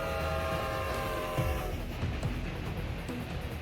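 A steam locomotive pulls in as a heavy train arrives, its steady rumble and hiss filling the scene with a faint horn-like tone early on, continuous and fairly close, with no talking.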